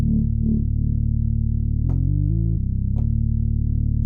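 A Moog Sub 37 synthesizer plays a low, buzzing bass tone through a lowered filter with multi-drive distortion and resonance, holding a drone that steps through a few pitch changes with brief gritty transients between notes.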